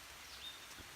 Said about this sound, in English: But it's starting to rain, so I gotta get hiking.